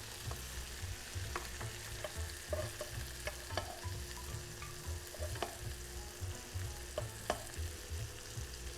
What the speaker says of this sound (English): You kind of have to tilt your pan to get enough butter in one spot to scoop